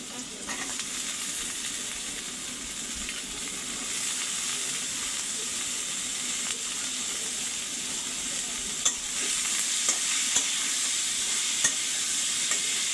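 Potatoes fry and get stirred with turmeric and spices in a pan for a Bangladeshi tomato-potato bhaji, giving a steady close sizzle with scraping stir strokes throughout and a few sharper clicks toward the end, no talk.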